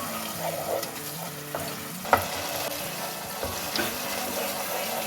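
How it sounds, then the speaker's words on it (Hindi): Masala spices frying and being stirred in a pan over a raised flame while cooking aloo gajar, giving a steady close sizzle with a few sharp scrapes of a spoon against the pan. "5 मिनट के बाद अब इसका फ्लेम थोड़ा सा हाई कर दें और मसाले को अच्छी तरीके से भून लें।"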